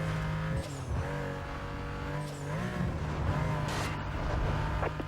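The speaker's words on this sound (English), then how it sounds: "I'm still moving in my Porsche Cayenne" A Porsche Cayenne in Need for Speed: Most Wanted (2005, PS2) drones steadily as its engine pitch rises and falls through gear changes, with brief tire squeals, loud and continuous.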